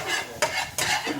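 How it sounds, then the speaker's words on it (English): Butter sizzling in a pan on the stove while being moved around, with a steady frying hiss and two louder bursts as it is stirred, close and without talk. "Butter sizzling, butter's good."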